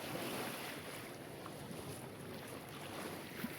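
Ocean waves and a boat hull in the video game Stella Sora, a soft steady wash of rough water and wind-like rushing with a faint knock near the end, heard alone at low level.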